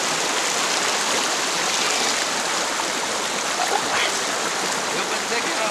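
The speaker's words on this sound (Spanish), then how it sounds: "aquí en los rápidos de este río, arroyo." Rushing river rapids on a stream at Chahuatlán during an afternoon of fishing, a steady broadband wash of moving water filling the scene without pause.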